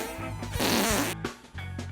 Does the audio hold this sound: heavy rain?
no